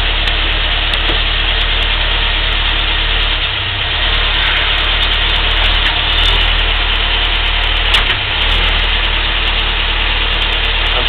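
A vehicle engine idles steadily and loudly up close, with a faint clunk from the differential locker mixed into the steady drone, and a few small dips and knocks around the middle.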